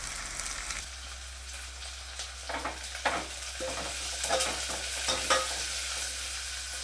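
Onion frying in a pan gives a steady sizzle with scraping stirring strokes, loud and close, no talk over it.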